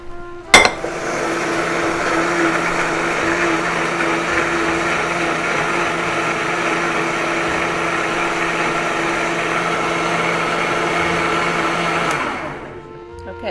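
A Vitamix blender purées strawberry sauce for a New York cheesecake, starting with a sharp click and then running as a loud, steady, high whirring drone for about eleven seconds before spinning down to quiet.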